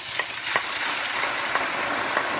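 Crushed tomato goes into a hot pan for white beans with salted fish, a steady close sizzle broken by a few soft stirring knocks and small clicks, with no talking.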